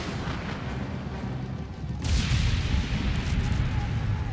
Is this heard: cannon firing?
yes